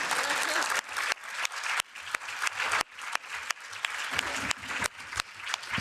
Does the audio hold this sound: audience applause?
yes